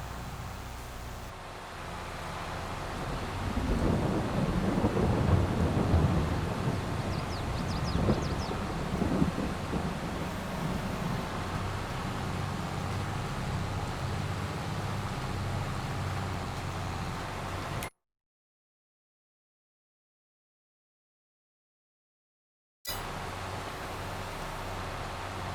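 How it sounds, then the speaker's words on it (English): Rain and thunder in the farming game Farming Simulator 22 make a steady, full broadband roar, with low rumbling swells early on and a brief total dropout near the end. "I actually really enjoy listening to the rain in this game."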